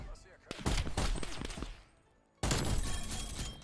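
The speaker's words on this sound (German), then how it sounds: "wie er mir auf die Füße schießt" Gunfire in the video game Call of Duty Cold War, with close bursts of rapid shots, a brief lull, then another loud volley that continues to the end, while a voice talks over part of it.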